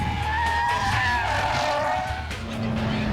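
A sports car with a six-speed gearbox pulls a handbrake turn, its tires squealing in a long, loud skid over a revving engine before the screech fades and the engine settles.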